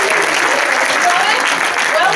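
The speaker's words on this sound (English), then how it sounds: "A big round of applause." Studio audience at a live retro gaming show giving a brief, steady round of applause, dense close clapping that stays level for a couple of seconds.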